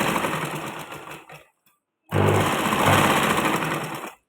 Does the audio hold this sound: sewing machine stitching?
yes